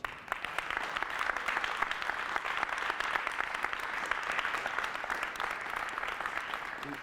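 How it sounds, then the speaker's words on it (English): A meeting audience at the California Auto Museum gives a steady, dense round of applause lasting several seconds, with no voices over it. "have a great big round of applause"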